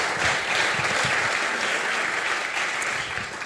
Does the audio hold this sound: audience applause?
yes